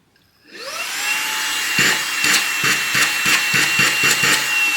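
A Xiaomi Mi Vacuum Cleaner Mini with a nozzle attached, on standard suction, spins up quickly into a loud, steady high-pitched whine, with regular rhythmic ticking pulses running through it.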